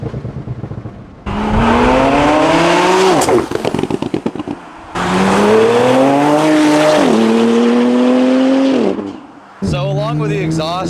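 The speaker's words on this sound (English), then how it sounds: "This is a very loud car." Modified Porsche Turbo S with a full Klien exhaust and dyno tune revving hard in repeated loud bursts, rising and falling pitch with crackling pops between pulls.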